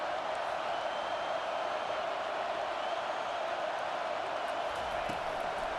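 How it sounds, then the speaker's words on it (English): A stadium crowd in the football game EA Sports College Football 25 roars in a steady, dense wash as the defense lines up on third down, continuous and moderately loud without clear peaks. "Decibels rising as the crowd gets behind this defense on third down."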